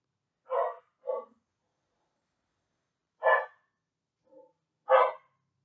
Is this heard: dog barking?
yes